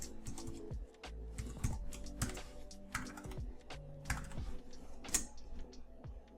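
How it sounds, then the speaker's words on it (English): Keys tapping in an irregular run on a computer keyboard while a password is entered at a login prompt on a cloud server terminal, close and moderately quiet, with no talking. "so go ahead and type in your password."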